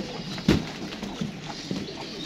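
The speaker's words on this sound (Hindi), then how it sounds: "इसमें 15 कबूतर डाल दिए जी" Pigeons coo softly inside a box, with a sharp knock or scuffle near the start and a few faint coos and rustles after, close by and without speech.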